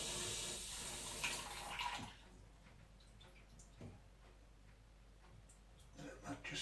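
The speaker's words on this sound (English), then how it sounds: "Slowly lift the tap, I don't want it all overflowing and going down the drain." Water from a kitchen tap pours onto a strainer holding harvested potato and broccoli seeds, a loud gushing rush for about two seconds, then quieter trickling and dripping as it drains away.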